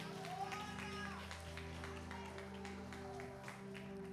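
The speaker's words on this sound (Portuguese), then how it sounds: "Receba a serva do Senhor com palmas bem alegres" A church congregation claps at a Friday deliverance service, quick, fairly faint applause mixed with sustained music and a voice speaking over it.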